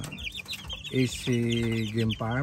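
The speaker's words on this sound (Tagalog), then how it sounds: "Ito na yung mga nakuha kong sisiw" Young chicks at a game farm peep and chirp up close in short bursts, mixed with brief clucking calls, while someone talks over them.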